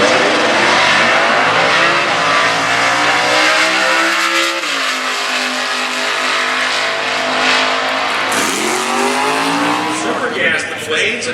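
A 2014 Mustang Cobra Jet launches down the drag strip during stock class eliminations at Indy, its engine roaring and rising through gears with loud, sustained revving, a brief shift dip midway, and an announcer talking over it.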